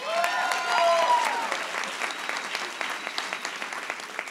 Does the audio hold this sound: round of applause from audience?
yes